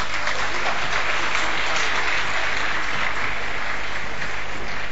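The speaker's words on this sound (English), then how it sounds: "A big round of applause, please." Dense, sustained audience applause fills a convocation ceremony hall at an NIT Manipur graduation, steady and loud throughout without spoken voices.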